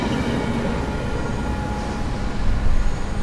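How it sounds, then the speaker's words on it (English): A train rolls past along the ocean shore at San Clemente, California, a loud, steady rumble of wheels and rail cars that swells slightly toward the end, with no talking. "I'm guessing this is one of the best train rides you can have because it's going right next to the ocean"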